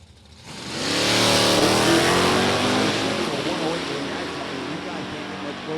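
Drag-strip hot rods at a national hot rod reunion, a 1967 Chevelle SS with a 548-cubic-inch engine alongside a mid-1940s post-war Ford, roar loudly: the revving swells quickly to a sustained, close, heavy engine bellow that holds steady.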